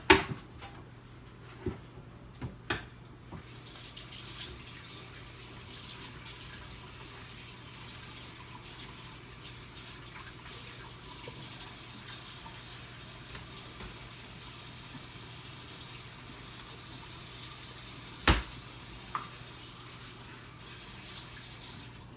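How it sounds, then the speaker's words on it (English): Hands are rinsed under a running kitchen tap while a Sunday dinner is cooked, giving a soft, steady hiss of flowing water with a few faint clinks and knocks, quiet and continuous. "So I got to rinse my hand off."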